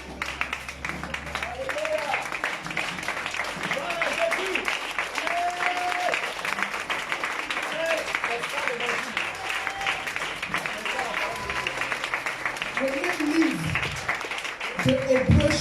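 A church congregation standing to acclaim the Lord with sustained, dense applause, steady and fairly loud throughout, mixed with scattered voices and a few calls from the crowd.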